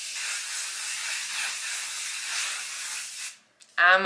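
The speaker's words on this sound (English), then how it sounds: "So final spray down." A long, steady aerosol hiss from a close spray can lasts about three seconds, then cuts off before a voice begins speaking.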